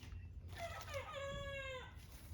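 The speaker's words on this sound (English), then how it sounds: "That rooster." A rooster crows once in a garden, a single drawn-out call heard at a distance over a faint outdoor background with no talking.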